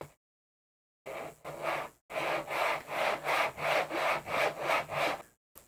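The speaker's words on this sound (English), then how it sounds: "get these fret slots cut" Hand saw cutting fret slots into a flamed maple guitar neck: after a brief silence, a steady series of rhythmic back-and-forth rasping strokes, close and clear, about a dozen in quick succession.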